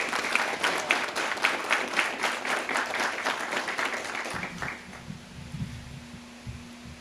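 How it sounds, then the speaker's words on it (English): Applause from an audience at a police and fire department awards ceremony, steady rhythmic clapping for several seconds that fades out, leaving a low hum and faint room noise. "Let's give them a big round of applause, folks."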